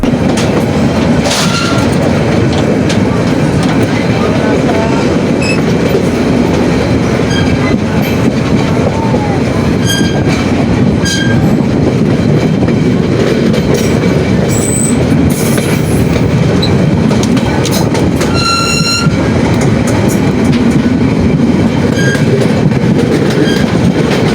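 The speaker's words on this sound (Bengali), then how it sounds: "একটু লক্ষ্য করলে আসলে আপনারা বুঝতে পারবেন আসলে অনেকেই জানে না ট্রেনের রেলপথ কিভাবে আড়াআড়িভাবে বদল হয়" A passenger train runs from Chittagong toward Cox's Bazar, its wheels giving a steady loud rumble with rhythmic clacking as they pass over track switches, plus occasional brief squeals throughout.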